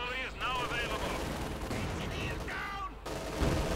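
Rapid cannon blasts and strafing gunfire from the real-time strategy game Company of Heroes 2, a loud, dense barrage of bursts blended with battle noise and a commentator's talk throughout.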